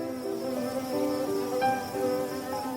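Close, continuous buzzing of bees, a droning hum that wavers slightly in pitch as the insects move about.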